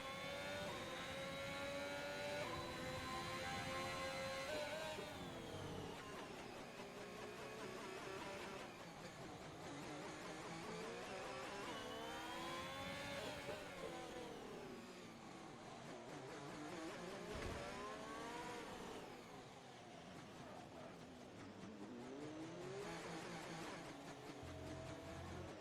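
Several race cars in a Monaco racing video game roar through the tunnel, their engine notes rising and falling in sweeping pitch changes as they pass, loud and continuous throughout.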